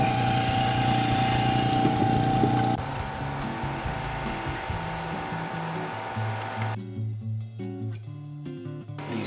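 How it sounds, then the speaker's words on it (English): A small vacuum pump used in SEM sample preparation hums steadily and loudly, its pitch and tone shifting partway through as it keeps running with a few soft knocks near the end. "then I just turn my little vacuum on"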